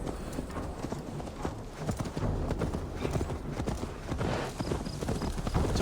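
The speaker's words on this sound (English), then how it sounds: "He's getting on his own horse." Horse hooves clip-clop at a steady gait in Assassin's Creed Valhalla, a rider mounting his own horse, dense rhythmic thuds under game ambience with no talk.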